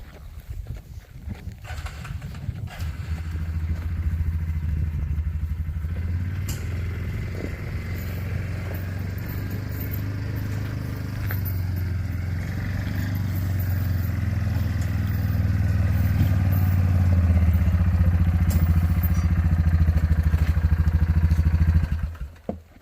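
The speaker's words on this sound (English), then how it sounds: "I'm just going to move this ATV on down." An ATV engine starts after a few seconds of clatter, then runs as it is driven, a steady low motor drone that grows louder toward the end before cutting off abruptly.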